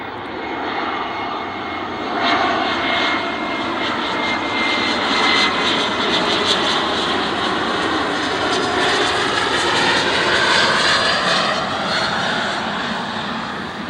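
A Vista America Challenger business jet lands at Dulles, its engines a loud, steady roaring rush that holds for many seconds with slowly shifting tone, no voices over it.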